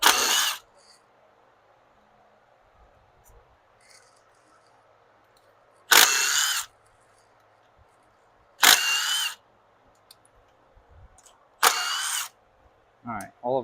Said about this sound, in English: It's nice having power tools, that's for sure.